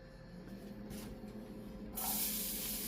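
Garlic hits a hot pan for Filipino palabok, and a bright, steady sizzling hiss rises suddenly partway through after a quieter background, close and continuous.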